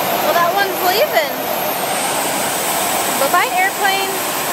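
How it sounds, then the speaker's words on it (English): A departing airplane's jet engines roar as a steady, loud broadband rush that fills the whole stretch, with voices talking over it. "Bye-bye, airplane."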